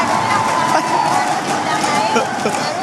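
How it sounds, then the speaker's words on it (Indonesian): A dense, steady wash of audience applause for Universitas Gadjah Mada fills the hall, loud and continuous, with crowd noise and a sustained tone underneath. "Boleh tepuk tangan buat Universitas Gadjah Mada."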